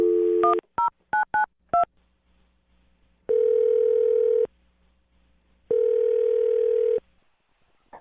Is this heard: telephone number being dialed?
yes